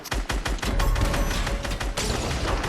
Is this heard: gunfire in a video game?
yes